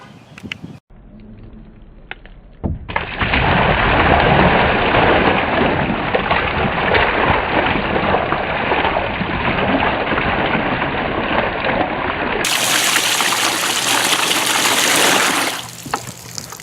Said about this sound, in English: I pour about 5 gallons of water into it and watch what happens.